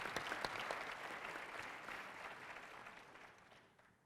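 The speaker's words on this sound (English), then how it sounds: "So now let's applause." Audience applause welcoming guests at a distinguished speaker series evening, a fairly distant, soft crowd clapping that slowly fades away.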